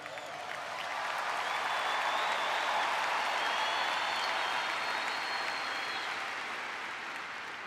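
A large crowd applauds steadily at an outdoor memorial in Arizona, a broad wash of clapping that swells in and holds loud and continuous, with a few faint whistles above it and no talking.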